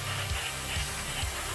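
An airbrush sprays paint indoors while camouflage bushes are painted, a steady close hiss of air with a soft, breathy texture and a faint low rumble underneath.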